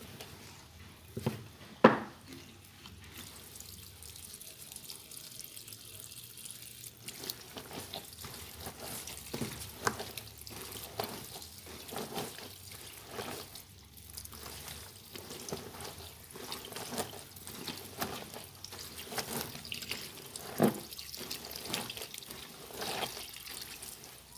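Water draining and trickling from hand-washed laundry, with soft splashes and drips at close range, and a few sharper wet knocks scattered through a steady low flow.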